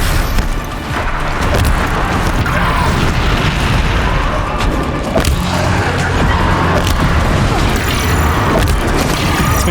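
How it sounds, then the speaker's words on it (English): A machine enemy in Horizon Zero Dawn: The Frozen Wilds on PC shoots fire, a loud, dense, continuous roar with scattered bursts and crackles running throughout. "This man is shooting fire at me."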